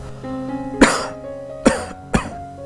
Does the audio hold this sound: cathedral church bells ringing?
no